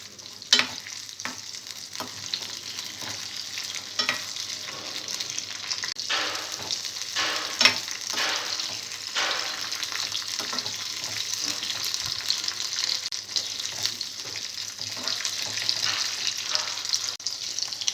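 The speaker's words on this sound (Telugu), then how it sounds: "వెల్లుల్లిపాయ, జీలకర్ర వేసి కొద్దిగా ఫ్రై చేసుకోవాలి." Garlic and cumin seeds fry in a pan with a steady, close sizzle, broken by repeated stirring scrapes throughout, with no talking.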